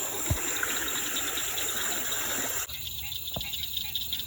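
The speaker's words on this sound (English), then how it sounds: "there's a number of different frog calls going on right here" A continuous chorus of frog calls in Texas, shrill and steady, with the background abruptly quieting partway through as the calls carry on.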